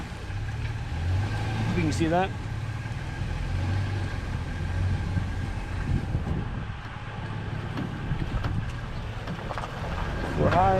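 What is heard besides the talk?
vehicle driving up a hill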